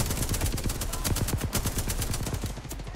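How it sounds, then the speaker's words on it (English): Dense, continuous automatic gunfire in a shooter video game, rapid overlapping bursts of shots crackling loudly for the whole stretch with no pauses. "Fuck, I'm getting shot up in the smoke."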